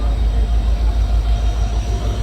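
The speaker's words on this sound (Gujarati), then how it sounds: "ચાર પાંચ વાગી ગયા જ્યારે ટ્રેન આવી છે આપણી" A train rumbles past nearby, loud and steady with a deep low roar and faint rattling of the cars.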